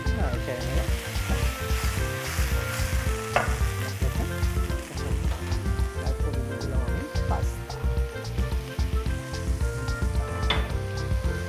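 Pasta fries with capsicum in a pan for restaurant-style Alfredo chicken pasta, giving a steady, close sizzle broken by occasional stirring scrapes and clinks.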